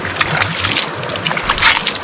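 Water poured over a stone outdoors, a short, close run of loud sloshing splashes that rise and fall over about two seconds.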